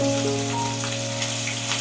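Fish rubbed with salt and turmeric sizzles in a frying pan, a steady close crackle and hiss with faint steady hum behind it.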